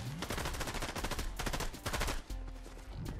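Rapid bursts of gunfire from the video game Fortnite, loud and continuous, with overlapping volleys and brief pauses between fast automatic strings.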